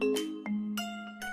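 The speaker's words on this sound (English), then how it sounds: "Suddenly, the doorbell rang." A doorbell chimes in a home, two or three bright ding-dong tones ringing out clearly one after another with sustained ringing notes, no talking.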